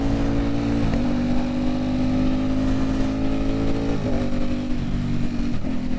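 An Aprilia Tuono motorcycle pulls on the freeway at part throttle, its engine droning loud and close with a steady rising pitch, broken by short gear-change dips near the first and fourth seconds.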